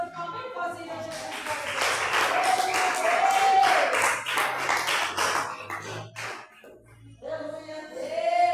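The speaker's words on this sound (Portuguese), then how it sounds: "Uma salva de palmas bem forte, Jesus." Congregation clapping during a Pentecostal-style church service, a steady broad patter of hands mixed with singing or shouted voices and a sustained musical tone, swelling in the middle and tapering near the end.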